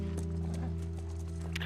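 Horse hooves clip-clop in The Last of Us, a few soft footfalls over a steady low game-ambience hum, fairly faint and brief.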